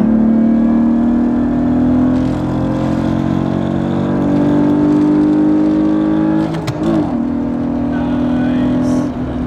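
A BMW E36 daily drift car revs hard through its gears, the engine note climbing steadily, dipping briefly at a shift around two-thirds through, then pulling again, loud and close.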